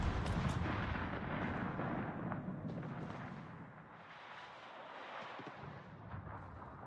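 The Alaska cruiser's guns firing in World of Warships, a dense rumbling roar of heavy cannon blasts and booming reverberation that swells loud at first, then eases into a lower sustained thunder.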